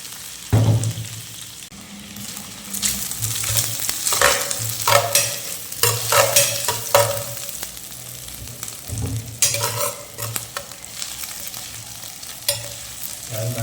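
Mutton frying in plenty of hot oil while being stirred, a loud, steady sizzle broken by repeated scraping and clattering strokes of a ladle against the pan, close up and with no talk.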